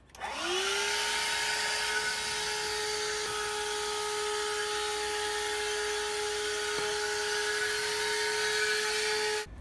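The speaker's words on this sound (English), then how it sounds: "It's cleaning day, and I got tasked with the vacuuming" Vacuum cleaner running inside a camper van, a loud steady motor whine that starts up and holds a constant pitch throughout, with a couple of faint bumps.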